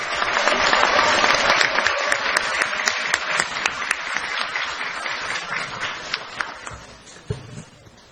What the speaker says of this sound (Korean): 힘찬 박수로 맞아주시기 바랍니다.